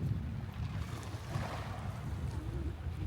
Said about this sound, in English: Just the sound of the sea.